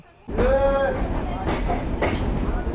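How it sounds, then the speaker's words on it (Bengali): The Kapotaksha Express pulls out of Safdarpur station in the evening. A sudden loud onset brings a rising whine as it gathers speed, with rumbling wheels and rhythmic clanks underneath, heard close from inside. "বিকেল 6টা 6 মিনিটে আমাদের ট্রেন ছেড়ে গেল সফদরপুর রেলওয়ে স্টেশন থেকে"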